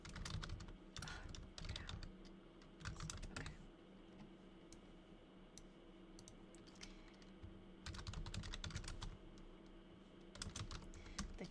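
Steady typing on a computer keyboard, bursts of quick clicking keys alternating with quieter pauses over a constant low background hum.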